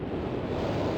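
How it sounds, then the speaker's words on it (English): Loud, steady rushing water with a gurgling, surf-like wash fills a puzzle room in a video game after a switch is activated, a continuous broadband roar with no breaks and no talking. "When I clicked that switch, I suddenly heard loud gurgling and rushing water."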